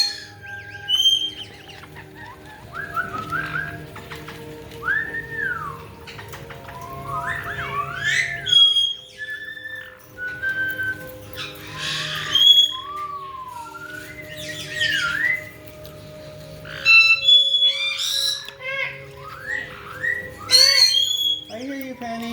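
A pet parrot whistles and chirps in short, bright bursts and squeaky calls near the listener, scattered irregularly among quiet moments while a person talks softly nearby.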